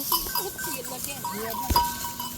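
Black goats bleating in a park, short wavering bleats scattered over a low rumble of outdoor noise while people talk nearby.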